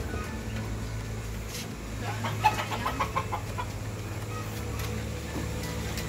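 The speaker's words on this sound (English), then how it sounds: "black chicken." Chickens cluck at a tropical rainforest resort in Borneo, soft irregular clucks close by over a steady low engine-like hum, with a person speaking at moments.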